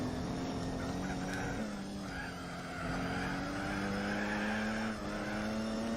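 A Mini Marcos GT race car in Gran Turismo 4 holds a steady engine drone, with a tone that rises and shifts between gears and brief tire squeals, close and continuous with no talking.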